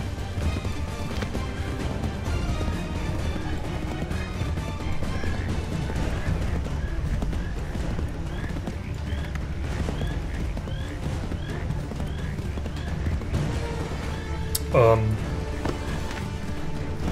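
Horse hooves clip-clop steadily through a tense Assassin's Creed 3 game scene with ambient background sounds, while someone talks over it throughout and a sharp crash lands near the end.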